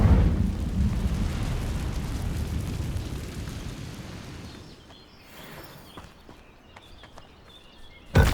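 Incendio fire spell cast in Hogwarts Legacy: a loud roaring, rumbling burst of flame opens and fades over several seconds, followed by quieter crackles and small impacts before a sharp sound at the end.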